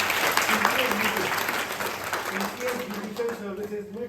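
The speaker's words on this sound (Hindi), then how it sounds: "एक बार उनके लिए भी ताली" Students applaud in a hall during an interactive session, a steady burst of clapping with a voice talking over it that fades slightly toward the end.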